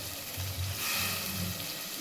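Tomatoes and mint sizzle steadily in hot oil for an egg biryani masala, a soft continuous crackle with a faint stir.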